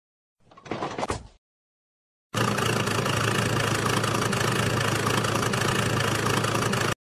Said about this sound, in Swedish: Lastbil.